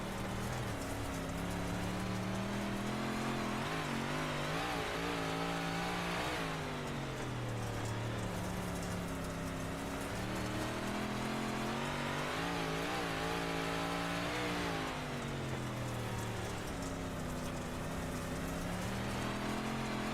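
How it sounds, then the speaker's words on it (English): Race cars on a rough track during a warm-up lap, engines droning and rising and falling in waves for about twenty seconds, heard at moderate distance as a continuous roar with no talking. "These cars are really bouncing around."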